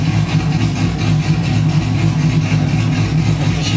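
Steady engine and road roar from a car driven with the windows rolled down, with wind rush and low rumble running continuously and loud throughout, no talking.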